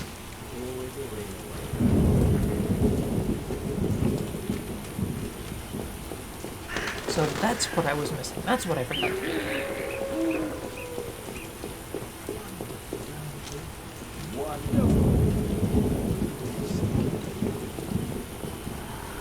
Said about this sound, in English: Wonderful downpour.